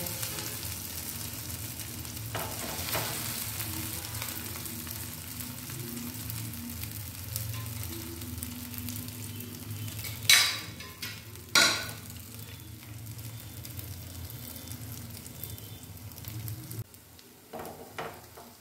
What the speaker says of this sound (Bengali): এই যে দেখুন এই পরিমাণ তেল দিয়েছি। এবার আমি এক এক করে এই রোলগুলো ছেড়ে দেবো।